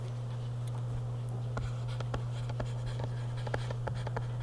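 Marker or chalk writing on a board during a physics review lesson, a string of short squeaky and scratchy strokes over a steady low electrical hum, with no talk.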